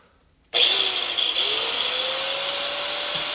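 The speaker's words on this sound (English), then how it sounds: "we're going to do that with an angle grinder and a cutoff wheel" Angle grinder with a cutoff wheel cutting through an old rivet on a buhurt helmet faceplate, starting abruptly after a short quiet moment and then holding a loud, steady, high-pitched grinding whine close by.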